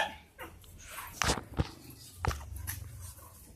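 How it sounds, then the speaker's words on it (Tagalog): A female puppy whimpers and yips in short, high cries, a few sharp bursts scattered over soft rustling close by. "So, yun nga guys, yung tuta namin."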